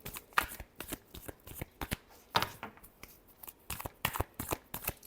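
Tarot cards shuffled by hand in a quiet room, a close, dense run of crisp riffling and flicking bursts that repeat in quick uneven rhythm with no talking.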